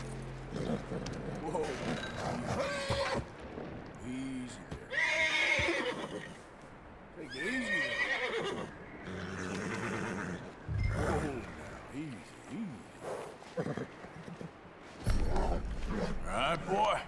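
In Red Dead Redemption 2, a horse gives several loud, near whinnies and snorts between spells of hoof clip-clop and game sounds, with a person speaking in between.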